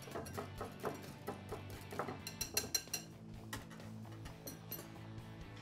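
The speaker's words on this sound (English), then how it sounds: "We're going to mix this around here." Raw milk stirred into soup in a pot, with light spoon clinks and scrapes against the pot repeating at an uneven pace, faint and close.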